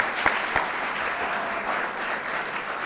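An audience at a 2015 business presentation applauds in a steady, even wash of many hands clapping, with a couple of sharper individual claps standing out near the start.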